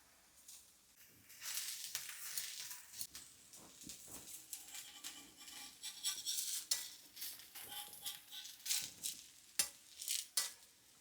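Pearl millet dosa frying in oil or ghee on a pan, a faint steady sizzle broken by clinks and scrapes of a metal spatula, close up with no talk.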